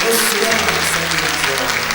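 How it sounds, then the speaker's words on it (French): A worship congregation applauds in a dense, continuous wash of clapping over sustained music tones, with voices mixed in throughout. "Applaudissons le Seigneur"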